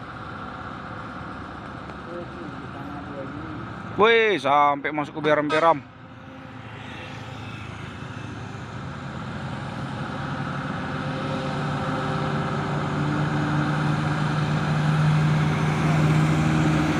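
A Fuso truck's engine labours up a steep hill, a low steady drone that swells gradually louder over the second half, with a short burst of talk near the start.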